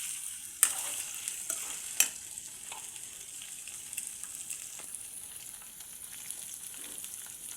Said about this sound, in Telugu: ఇది మొత్తం ఇలా గోల్డెన్ కలర్ వచ్చేంత వరకు ఫ్రై చేసుకోవాలండి.